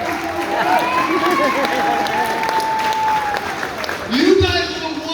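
A wrestling crowd applauds steadily and fills the room at a DCW event, while a loud voice carries over the clapping throughout.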